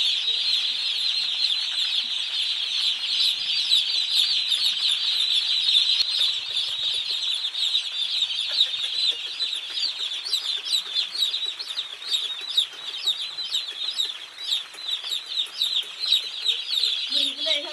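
Chickens cluck steadily and close by, a dense continuous chorus of short calls with occasional wing flutters, drawn toward their keeper on a small poultry setup.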